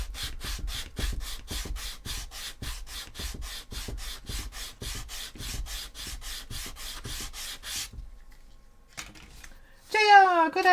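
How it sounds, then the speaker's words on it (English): Rapid, rhythmic back-and-forth strokes of 180 grit sandpaper on a cosplay chainsword prop, close and steady for several seconds, then a pause and a brief voice. "this is just 180 grit sandpaper"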